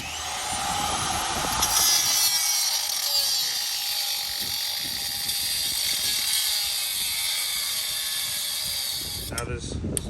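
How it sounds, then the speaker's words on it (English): Circular saw shaving the end off a car's metal pedal lever, heard as a loud, steady, high-pitched grinding whine that holds close and unbroken for about nine seconds and then stops abruptly. "I'm gonna try to use the circular saw and shave this end off."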